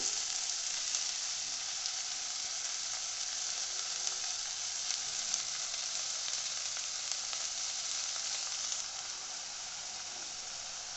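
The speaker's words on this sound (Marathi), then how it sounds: "गरम झाल्यानंतर फोडणी भाजी घालून घ्यायची आहे" Ambadi (roselle) greens dropped into hot oil tempering sizzle loudly and steadily, a dense frying hiss that holds even throughout with no voices over it.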